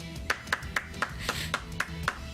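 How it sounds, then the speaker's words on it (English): Hands clap in a steady, evenly spaced rhythm of about nine sharp claps at close range, with a faint murmur underneath. "Oh, I thought we were clapping."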